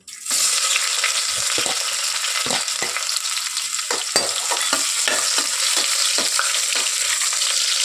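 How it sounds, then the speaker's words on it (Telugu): Thinly sliced onions fry in oil with cinnamon and bay leaf, a loud, steady sizzle punctuated by repeated clinks and scrapes of a spatula stirring the pan. "ఆనియన్స్ మంచి గోల్డెన్ బ్రౌన్ కలర్లో వచ్చేంత వరకు ఫ్రై చేసుకోవాలి"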